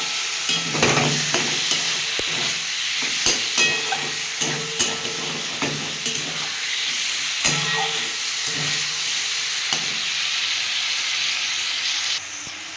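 Tomato chutney with sugar frying in a pan hisses steadily while a spoon scrapes and knocks in a repeated stirring rhythm, close and clear with no talking.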